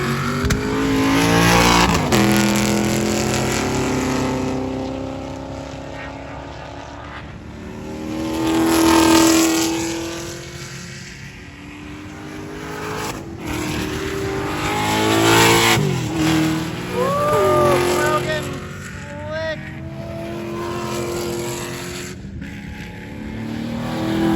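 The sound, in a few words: race cars driving on a track, C3 Corvette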